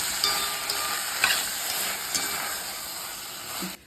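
Vegetables for a vegetable biryani stirred and sautéed in a hot pan, a steady sizzle and hiss with a few scraping stirs of the spoon, close and continuous until the sound stops abruptly at the end.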